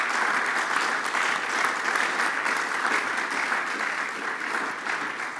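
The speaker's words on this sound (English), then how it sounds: "A round of applause for our panelists today." A studio audience gives panelists on a televised business discussion show a dense, steady round of applause, sustained at full strength and easing only slightly near the end.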